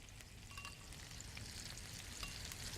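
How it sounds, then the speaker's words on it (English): Sausage for jambalaya frying in a skillet while being spread around, a soft continuous crackling sizzle with small pops, close but fairly quiet, no talking. "So I'm just spreading this around in the pan so that I can get some nice color on this sausage."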